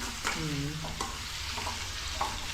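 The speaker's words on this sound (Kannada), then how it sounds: "ಈಗ ನೋಡಿ ಚೆನ್ನಾಗಿ ಫ್ರೈ ಮಾಡ್ಕೊತ ಇದು" Paper poha (flattened rice) fries in a pan, with a quiet, continuous sizzle broken by several scraping stirring strokes of a utensil at an uneven pace.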